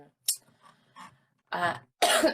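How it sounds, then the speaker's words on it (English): A few short coughs and throat sounds, close and fairly loud, with brief pauses between them. "Jiminy Christmas, this cough."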